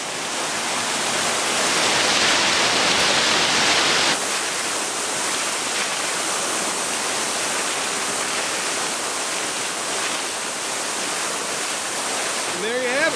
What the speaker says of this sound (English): It'll take about a minute or two for the pumps to circulate the water.